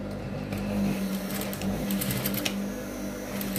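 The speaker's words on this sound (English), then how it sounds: "I'm going to be stitching this part by half an inch" A sewing machine runs steadily up close, stitching the seam of boys' school uniform shorts with a continuous mechanical hum and rapid needle clatter, and no voice is heard.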